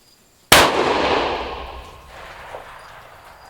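A single loud rifle shot from a Tikka T3x Roughtec in 6.5 PRC fitted with a radial muzzle brake, a sharp crack followed by a long outdoor reverberating tail fading over a few seconds.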